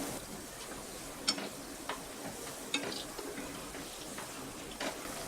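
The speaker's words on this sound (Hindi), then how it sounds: "तो अब हम इसमें ड्रॉप करेंगे सूजी के कचौरी को।" Semolina kachori frying in hot oil, a steady soft sizzle with occasional small pops and clinks, close and fairly quiet, with no talking.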